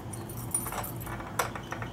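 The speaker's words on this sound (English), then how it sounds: "No, those are keys. Putting keys in the door." A bunch of metal keys jangles and clinks close up as they are fitted into a door lock, with a couple of sharper clicks over a quiet room hum and no voices.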